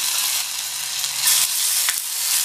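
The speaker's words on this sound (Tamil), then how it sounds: "இந்த கடாயில் 1/2 டீஸ்பூன் எண்ணெய் விட்டு சூடாயிடுச்சு. அதில் ஒரு கீறின பச்சை மிளகாய், 1/4 டீஸ்பூன் இஞ்சி பூண்டு பேஸ்ட்டு" A slit green chili and ginger garlic paste fry in a little hot oil in a kadai, a steady, close, bright sizzle with a couple of small stirring clicks and no talking.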